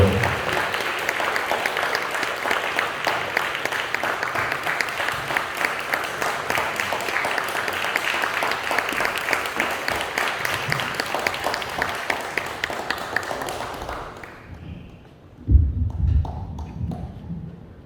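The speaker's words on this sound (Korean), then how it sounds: "우리 큰 박수로 하나 주시면" Church congregation applauding to welcome Pastor Ha Deok-gyu at a salvation festival service, a long dense wash of clapping that fades out near the end, followed by a few soft thumps and quiet room sound.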